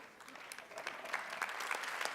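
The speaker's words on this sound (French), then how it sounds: "on va vous applaudir une nouvelle fois" Audience applause for award winners at a label ceremony, a continuous patter of many hands clapping, fairly distant and soft, swelling slightly over two seconds.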